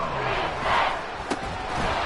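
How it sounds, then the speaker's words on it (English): The Arrowhead stadium crowd roars during a Madden 24 football game, a steady, loud, dense wash of cheering with one sharp thud partway through. "The Arrowhead crowd in full roar."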